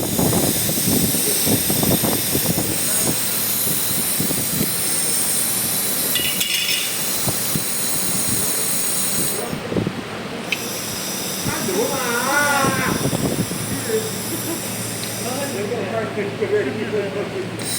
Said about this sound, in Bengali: এটা অ্যালুমিনিয়াম ওয়েল্ডিং করার মেশিন।